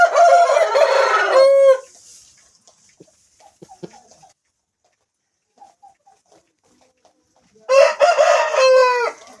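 A Pettamaru-breed gamecock crows loudly twice, one long call at the start and another near the end, with faint scattered clucks and rustling in the quiet between.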